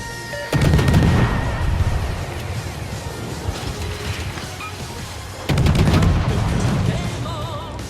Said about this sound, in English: the Mizashi is heading very close to my position now, so I'm going to torpedo him